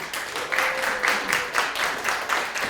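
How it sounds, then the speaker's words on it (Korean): Brisk, steady clapping from an audience at a jewelry conference seminar, welcoming a lecturer to the stage, sustained and fairly close throughout with a rhythmic pulse and no talk over it. "힘찬 박수와 함께 앞으로 모십니다"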